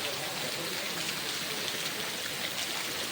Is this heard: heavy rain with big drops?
yes